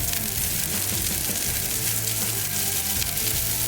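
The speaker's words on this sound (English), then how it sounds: "So I'm gonna get the onions going in a little bit of oil and butter" Onions fry in oil and butter on a Blackstone griddle with a dense, continuous sizzle, steady and close throughout.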